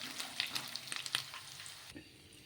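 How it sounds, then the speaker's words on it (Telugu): Peanut and egg pakodi frying crisp in hot oil with curry leaves, a steady close sizzle with sharp crackles and spatters through the first two seconds before the sound drops off. "ఇందులోకి కొంచెం కూడా కరివేపాకు వేసుకొని క్రిస్పీగా ఫ్రై చేసేసుకుంటే చాలా టేస్టీగా ఉంటుంది"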